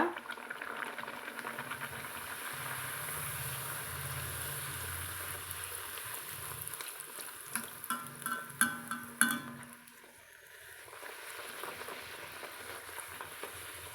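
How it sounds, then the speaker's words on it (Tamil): Puri frying in hot oil, a steady close crackling sizzle that runs throughout, with a burst of sharper pops and splatters near the end before it settles again. "உப்பளா பூரி நல்லா மொறு மொறுன்னு பாருங்கள் எப்படி சத்தம் கேட்குதுன்னு"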